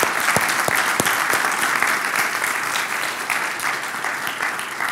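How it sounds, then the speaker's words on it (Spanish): A church congregation claps together during a sermon, a dense, loud, steady applause that holds for several seconds. "¿No le das un aplauso al Señor por eso?"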